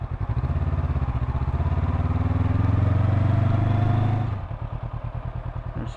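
A motorbike rides up a temple road at Wat Tha Khao Prang in Lopburi, Thailand, its engine droning loud and close before dropping to a quick, pulsing idle near the end.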